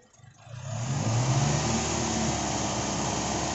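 Toyota Innova 1TR engine with a misfire, gently revved up from quiet, then holding a steady close rumble with a slightly uneven texture and no talking.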